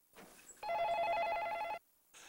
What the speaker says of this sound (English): phone calls